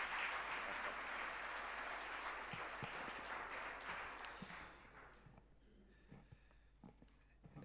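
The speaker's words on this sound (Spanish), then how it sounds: "Un aplauso, por favor, hombre." A crowd at a tribute ceremony applauds loudly and evenly for about five seconds, then the clapping fades out into a quieter room with scattered claps, small noises and a few voices.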